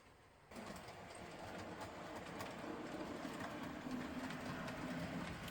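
A model BR Class 47 diesel locomotive runs on a layout with a steady rolling rumble and faint clicking over the track, continuous and fairly close, slowly growing a little louder.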